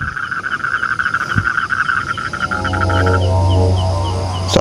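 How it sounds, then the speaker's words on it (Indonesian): Dense chorus of frogs croaking steadily, with crickets chirring in the background; a continuous outdoor night ambience at a quiet lake, no voices. "Yang terdengar hanya suara kodok dan jangkrik."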